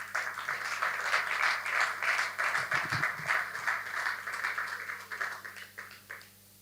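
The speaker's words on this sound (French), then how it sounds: "Chibangu Alex, sous vos applaudissements." A crowd at a public speaking contest final applauds steadily, dense overlapping claps holding at an even loudness before tapering off at the end.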